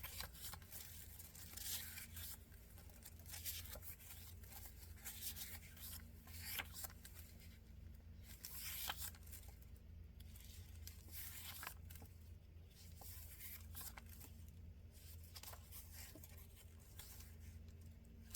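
Paper from an unboxing is handled, producing faint close rustles, rubs and crinkles in irregular bursts over a quiet background, with no talking.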